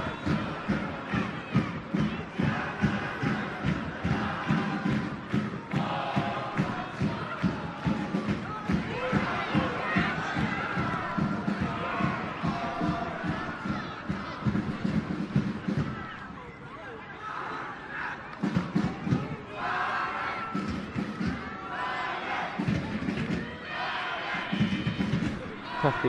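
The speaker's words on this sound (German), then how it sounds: "Die Walle-Fans gut zu hören." Valur football fans in a stadium chant and cheer in a steady rhythmic roar throughout, with a commentator speaking over the crowd noise.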